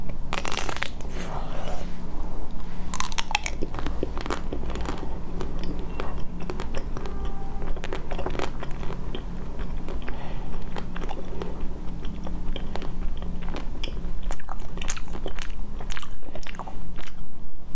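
Strawberry cookies are bitten and chewed close to the mic, a continuous run of crisp crunches and mouth sounds throughout, loud and near, with no talk over it.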